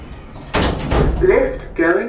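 A Thyssen hydraulic elevator's doors in a Marks & Spencer store in Nottingham slide shut with a loud close thunk and rumble, mixed with an automated announcement voice.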